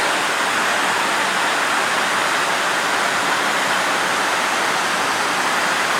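Rushing water pours over Oongan dam in Kesiman, Bali, a steady, dense roar that fills the whole six seconds without a break, loud and close, with no voices.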